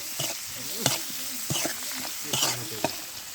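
Fish bhuna with chopped tomato is stirred in a frying pan. A spatula scrapes and turns the food in a handful of distinct strokes over a steady, close sizzle.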